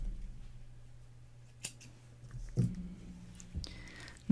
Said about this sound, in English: Then we can snip that off.